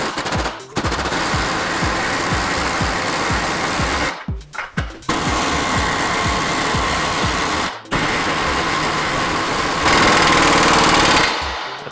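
Impact wrench spinning a bolt into the spindle of a 2006–2011 Honda Civic during a wheel bearing job, loud rapid hammering bursts broken by short pauses, close and alone with no talking.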